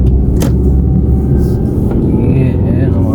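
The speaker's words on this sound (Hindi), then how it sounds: "अभी गाड़ी आ रही है, यहाँ से मोटरसाइकिल आ रहा है" A car and a motorcycle pass close by on a road in Germany, giving a loud, steady rumble of engine and tyre noise that fills the whole moment without a break.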